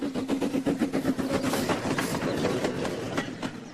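A train rolls past through open countryside, its steady clickety-clack and rumble holding at a loud, close level from start to finish.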